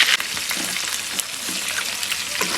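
Garlic sprouts fry with beef steak in a pan, giving a loud, steady sizzle broken by scraping stirs.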